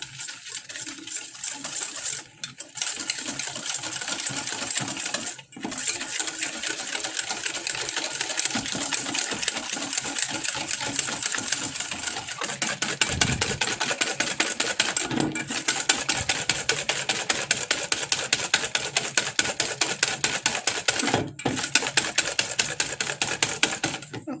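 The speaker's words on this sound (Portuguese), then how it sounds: "Com a ajuda do fouet, nós vamos bater essa mistura." A whisk beats eggs with vanilla paste in a bowl, a rapid, steady clatter of strokes kept up for about twenty-four seconds with a few brief pauses, close and fairly loud with no talking.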